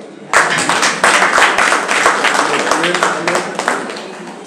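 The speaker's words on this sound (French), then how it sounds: "Ça mérite des applaudissements." Audience at a Socialist Party programme conference bursts into applause, a dense wash of many hands clapping that swells suddenly and carries on steadily before tapering off, with a voice speaking over it.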